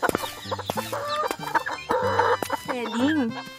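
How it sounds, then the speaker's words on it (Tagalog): A fighting rooster, a gamecock in a Filipino rural setting, clucks several times close by, then lets out a drawn-out crowing call, all loud and clear with no talk. "Minsan nagseselos na ako sa pagmabahal mo sa manok mo, Kulas."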